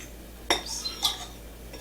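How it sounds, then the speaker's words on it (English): Ingredients mixed quickly in a bowl with a utensil while baking apple fritter bread, giving a couple of short scraping clinks against the dish over a quiet kitchen background. "we're just going to mix this quickly"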